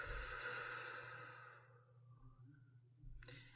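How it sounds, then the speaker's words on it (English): One long, deep inhalation followed by a slow, breathy exhale, close and soft, fading off with a faint click at the end. "take a really deep breath in"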